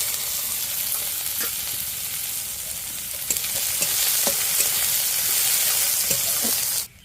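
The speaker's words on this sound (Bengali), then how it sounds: "পেঁয়াজগুলো হালকা ব্রাউনভাবে ভাজা হয়ে গেছে।" Chopped onions with green chilli and black cumin frying in a pan, a loud steady sizzle with scattered stirring scrapes and ladle taps, cutting off abruptly at the end.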